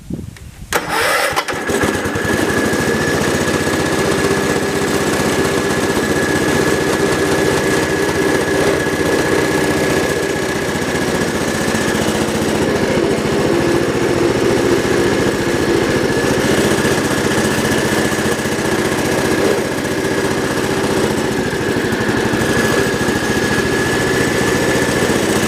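A Cub Cadet 1200 garden tractor engine cranks and catches, then runs loud and steady at close range for the rest of the clip. A persistent whine rides on top as the clutch engages the gear, with no talking.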